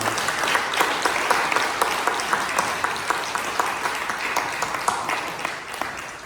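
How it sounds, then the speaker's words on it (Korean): A church congregation at a Sunday service claps to welcome the evangelist, a steady wash of many hands with sharp individual claps, loud and sustained throughout with no talk over it. "우리 한번 마가벨 우리 전도사님 큰 박수로 한번 우리 맞이하겠습니다."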